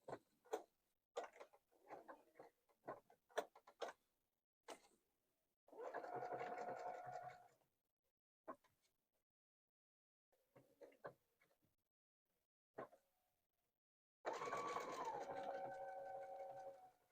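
A sewing machine stitches appliqué onto fabric, heard in two sustained whirring runs with quiet pauses between, preceded by scattered soft handling clicks as the fabric is adjusted around a curve.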